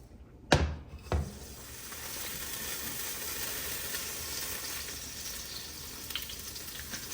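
Chopped vegetables hit hot olive oil in a pan for a lamb stew, with two sharp clatters followed by a steady, soft sizzle that keeps going quietly.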